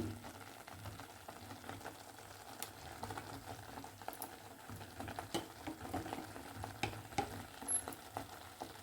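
Mango halwa bubbling and cooking in a pan as ghee is added, a faint soft sizzle with low bubbling and light stirring scrapes.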